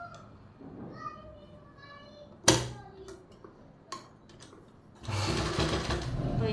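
Sewing machine running in a steady burst while stitching the lining of palazzo pants, a sharp knock and quieter handling noises before it, with faint voices in the background.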